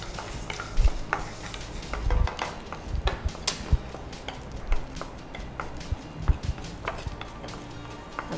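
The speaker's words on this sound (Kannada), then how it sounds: "ತುಪ್ಪ ಹಾಕ್ಕೊಂಡು ನಾವು ಗೇರು ಬೀಜ ಮತ್ತು ಇದನ್ನು ಫ್ರೈ ಮಾಡಿಕೊಳ್ಳೋಣ" Cashews and raisins frying in ghee while being stirred for carrot payasa: repeated clanks and scrapes of a spoon against the pan over a soft sizzle, close and irregular throughout.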